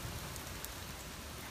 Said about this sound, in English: it's nice and breezy, it's raining